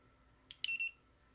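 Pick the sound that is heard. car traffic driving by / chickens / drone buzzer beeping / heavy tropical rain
drone buzzer beeping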